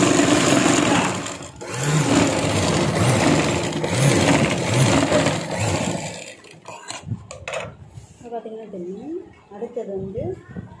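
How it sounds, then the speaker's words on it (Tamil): A sewing machine topstitches blouse fabric, a steady close mechanical whirring that slows and stops partway through, while someone talks over it and keeps talking afterward. "இந்த துணி மேலே நான் அமுக்கு தையல் போடணும்"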